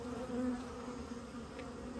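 Honey bees left behind at a hive removal hum in a steady, continuous drone, a dense mid-pitched buzz of many insects close by with no talking.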